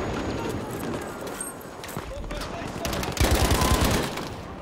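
Bursts of automatic gunfire in Battlefield 5 during an assault on the Grind map, several rattling volleys mixed with game noise and voices, the loudest burst near the end.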